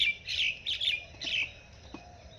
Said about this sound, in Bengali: এই দুটো দিল্লির পায়রা